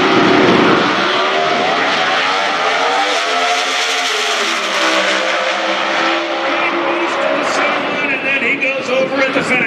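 A pro stock drag racing car crashing on the top end at the NHRA Midwest Nationals, heard as a loud sustained engine roar with shifting tones and skidding, under steady crowd and commentary-like noise.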